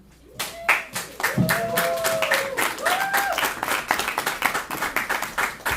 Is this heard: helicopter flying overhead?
no